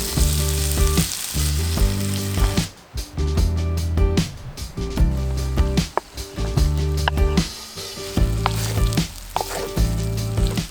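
Bacon fries in a pan at a camp in wild northern British Columbia, giving a loud, steady sizzle and crackle with a few scraping stirs and short dips, and no talking.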